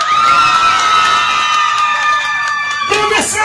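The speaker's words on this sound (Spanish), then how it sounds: "¿Dónde están los aplausos para la pareja número uno?" Dance-contest audience cheering loudly for the first couple, with a sustained high whooping shout over crowd noise and clapping, ending in a rising voice.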